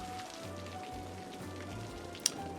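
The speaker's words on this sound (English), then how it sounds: "I wish this rain would sod off" Steady patter of rain from the video game Cities: Skylines, a soft even hiss of drops with a faint low hum underneath and one sharp tick near the end.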